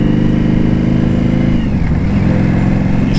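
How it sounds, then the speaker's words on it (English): A loud motorcycle roars at close range while riding on a windy day, its engine droning continuously with a slight pitch dip midway, mixed with wind noise. "And this bike is loud."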